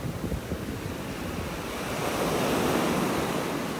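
Ocean waves wash onto a beach in North Naples, Florida, with a continuous broad rush of surf and some wind buffeting the microphone. The sound swells louder in the second half.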